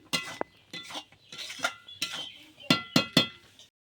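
Boiled raw mango is tipped into a bowl amid a handful of close, crisp clinks and taps of utensil on dishware, coming in uneven bursts with brief gaps and a quick cluster of sharp knocks near the end.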